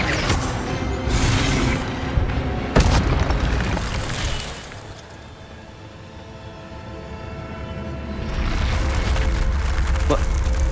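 Casting the Incendio fire spell in the Hogwarts Legacy video game produces a loud roaring, rumbling blast that fills the space, fades to a quieter hum midway, then swells back to a heavy roar.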